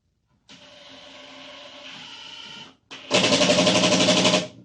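A saw bites into wood for a thin cut, first a moderate steady whine, a short pause, then a louder, harsher buzzing cut, close and isolated.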